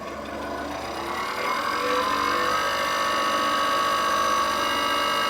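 A distributor tester machine spins up to about 950 rpm on an old Chevelle's distributor, a whirring mechanical hum that rises in pitch over the first couple of seconds and then holds a steady high whine.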